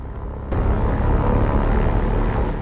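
Propeller airplane in the video game Far Cry 4 roars in loud and close after a half second of quieter ambience, its engine drone then holding steady and full.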